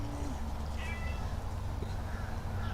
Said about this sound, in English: Cats are a little testy right now because they're still waiting for food.